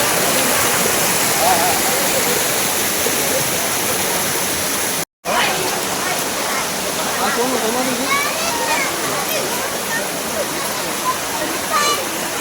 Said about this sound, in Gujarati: જુનાગઢની જટાશંકર જવાની ઝરણા મોટા મોટા વયા છે